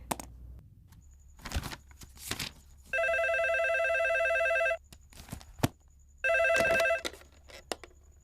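A telephone rings in two long electronic bursts of harmonic trilling, loud and close, with brief clattering handling noises and footsteps around them and no speech over the ring.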